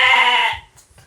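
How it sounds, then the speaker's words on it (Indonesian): A single sheep gives a loud, close, drawn-out bleat while being handled for shearing, fading after about half a second into quiet background rustle. "Si domba."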